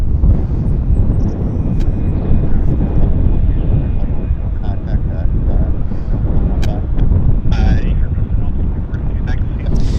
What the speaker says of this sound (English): This is United inbound from San Francisco. A320.